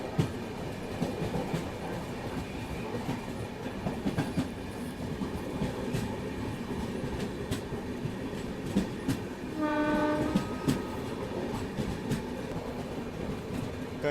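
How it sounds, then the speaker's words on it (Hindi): The Marudhar Express runs along the main line past a parked empty rake, a steady rattle of wheels and clickety-clack with a horn sounding midway. "खाली रेक को फिलहाल हम लोग ओवरटेक कर रहे हैं, जो कि मेन लाइन पे खड़ी हुई है।"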